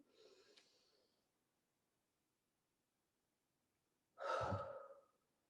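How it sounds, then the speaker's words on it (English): Two slow, deep breaths during a guided breathing exercise at a children's craft session: a soft, airy exhale first, then a longer, louder breath a few seconds later after a quiet pause. "And one more time, breathe in."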